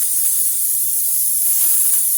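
Cooking spray hisses onto the sides of a 9-inch bundt pan for an apple cake, a steady close spray lasting a couple of seconds with no talking.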